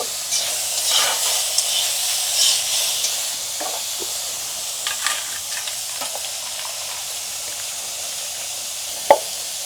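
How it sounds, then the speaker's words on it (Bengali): Shrimp lightly frying in a pan for a Bengali home-cooked dish, a steady close sizzle and hiss with occasional stirring scrapes and one sharp clink near the end. "এই চিংড়ি মাছ ছাড়া দিয়ে হালকা ভেজে নেব"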